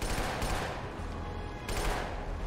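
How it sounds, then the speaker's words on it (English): Sustained rapid automatic gunfire in the video game Killzone 2, a dense continuous fusillade with a brief break before the shooting resumes, loud and close throughout. "I'm just shooting that to make sure."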